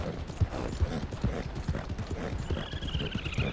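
Horse hooves clop in Red Dead Redemption 2, a steady rhythmic plodding of hoofbeats over ground with a faint whistling tone toward the end; no snort stands out clearly.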